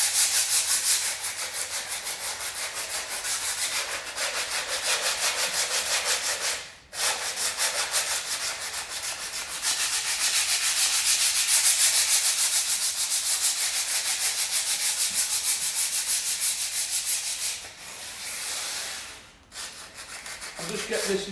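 Rusty, flaking metal parcel shelf from a Mercedes-Benz ML being hand-sanded, a continuous loud abrasive rubbing in long back-and-forth strokes, with a couple of brief pauses.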